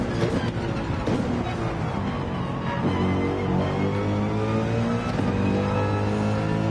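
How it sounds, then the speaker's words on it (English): A race car in Gran Turismo 7 braking hard late into a corner, its loud, steady engine roar dropping in pitch as it slows, continuous throughout with no talking. "That was some pretty last minute braking."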